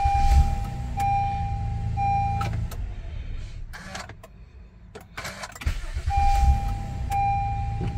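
A Honda Accord V6 cranks and starts after a starter replacement, with a beeping chime, a short burst of cranking, then the engine settling into an even idle, repeated twice and heard close by.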